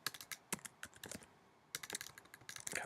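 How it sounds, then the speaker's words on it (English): Bursts of typing on a computer keyboard, quick irregular key clicks close by, with a brief pause in the middle before the tapping resumes. "Okay, so bit of typing there."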